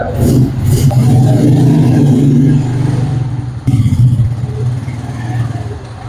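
A motorcycle engine revs loudly up close, a steady throaty roar that drops briefly and then picks back up.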